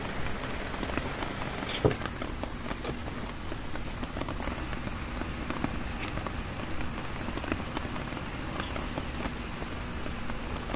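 Rain falls steadily outdoors in a soft, even patter of drops on surfaces, with a single sharper tap near the start and no voices.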